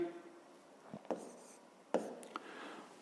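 Pen writing on paper during a fifth-grade maths exercise: a few soft scratchy strokes and taps, close and quiet, with brief pauses between them.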